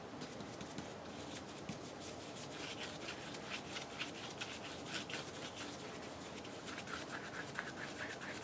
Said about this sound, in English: Almost dry brushing, but you know, obviously I've got a little more paint on there than I would for dry brushing